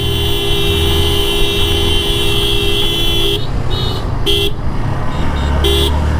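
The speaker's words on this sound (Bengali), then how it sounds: "অনেক হচ্ছে জোরে রাইড করছে গাড়ি চালাচ্ছে" A microbus is driven fast along a coastal marine drive road, with loud, continuous road and engine noise and several short horn toots breaking through.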